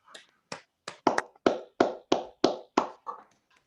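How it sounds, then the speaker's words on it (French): About ten separate hand claps, evenly spaced and fairly close, coming through open microphones during an online meeting, fading slightly at the end. "Je vous demande d'ouvrir vos micros pour un bel applaudissement pour Nicolas Rosa"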